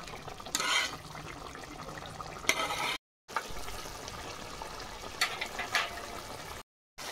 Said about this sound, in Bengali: মশলা কষা হয়ে গেছে, জল দিয়ে দেবো।